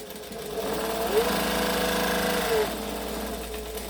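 Sewing machine running a slow back stitch, a steady mechanical whirring hum with rhythmic needle chatter for a few seconds before easing off.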